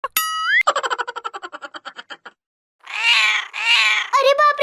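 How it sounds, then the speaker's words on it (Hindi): Kittens mewing in a cartoon comedy scene, a cluster of high, wavering cries following a bouncy boing and rapid pulsing effect, loud and close with no talk over them. "ये बिल्ली के बच्चे कहाँ से आ गए?"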